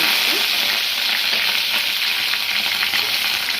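Mustard seeds, cumin and green chillies fry in hot oil in a pan, a loud continuous sizzle with faint crackles and pops running unbroken throughout.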